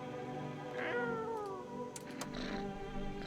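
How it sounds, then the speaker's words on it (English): A cat meows with a drawn-out, wavering cry, followed by a second shorter call, fairly close but soft against a quiet background. "Kitty!"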